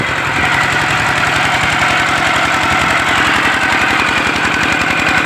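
An engine-driven water pump runs steadily while pumping water out of a pond for fishing, a loud close chugging with a fast, even knocking pulse and no pauses.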